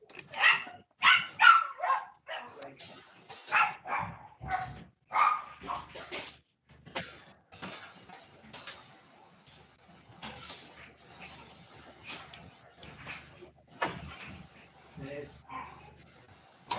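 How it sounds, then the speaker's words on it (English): A dog barks repeatedly from nearby, sharp bursts in uneven clusters with a few whimpers, loudest at the start and tapering off later. "Dog was going mental."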